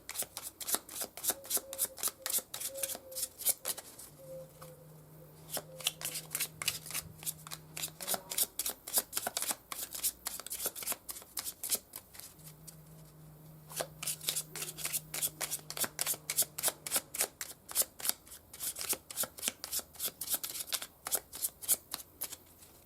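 A deck of tarot cards is shuffled over and over, with rapid riffling bursts in a steady rhythm, close and crisp, while a low hum and a faint tone sit in the background.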